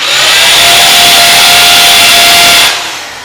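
An electric drill bores dowel holes in wood, a loud, close, steady high whine that runs continuously and then stops near the end.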